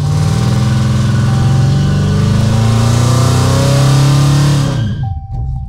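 A Dodge Challenger SRT's 5.7-litre Hemi V8 revs loud and close, the engine note climbing steadily before the throttle drops and it quickly falls away to near silence.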